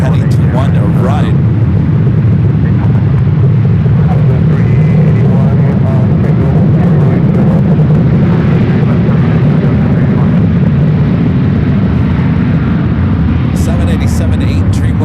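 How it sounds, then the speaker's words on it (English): Japan Airlines Boeing 787-8 Dreamliner taxiing at San Francisco airport toward runway 1 right, a loud, steady low engine rumble and roar persisting throughout, heard from outdoors. "We're doing that Japan Airlines Dreamliner heading to 1 right."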